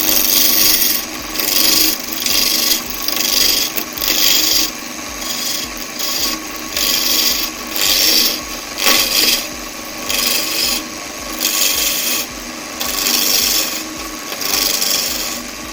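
A skew chisel makes a peel cut on wood spinning on a lathe, giving a loud rasping, shaving hiss that pulses in repeated strokes with short pauses, close and continuous, with no talking.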